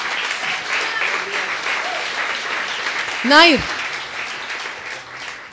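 Sustained applause from a live audience at an Armenian stand-up style talk, a broad, steady clatter of clapping that swells briefly midway, with a voice speaking over it.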